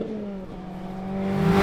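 Reborn Lancia car driven hard on a race track, engine droning steadily and rising in pitch as it accelerates, loud and continuous.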